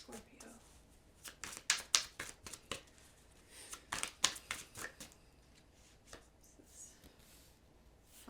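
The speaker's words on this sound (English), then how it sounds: "I've shuffled these cards a lot" Tarot cards being shuffled by hand in a series of quick, crisp riffling bursts, close up, with brief pauses between them.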